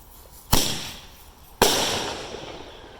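Two sharp cherry bomb firecracker bangs about a second apart, each a loud close crack trailing into a short fading rumble outdoors, with no voices.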